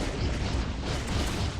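Molecule Man's crater-making impact skill in a video game, a brief heavy booming crash with dense rumbling noise, loud and close throughout.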